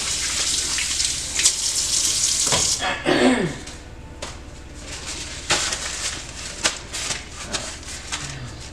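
Hands being washed under a running kitchen tap, a steady broadband hiss of flowing water with brief splashes and shifts as the hands move through the stream, close and fairly loud.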